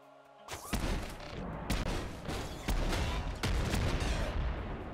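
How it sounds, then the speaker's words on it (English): Rapid volley of heavy synthetic gunfire from a bullet cannon in the roguelike shooter Nuclear Throne, loud dense bursts with sharp repeated impacts over about four and a half seconds, starting after a brief quiet moment. "Literally just fires a volley of perming bullets."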